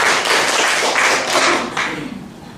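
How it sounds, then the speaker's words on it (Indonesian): A church congregation at a sermon in Bekasi claps together in a dense burst of applause, loud and close, fading slightly toward the end. "Iya, tepuk tangan buat Tuhan Yesus."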